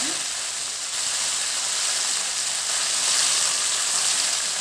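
Chopped coriander leaves frying in hot oil in a kadai, a steady bright sizzle that holds close and continuous with no pauses.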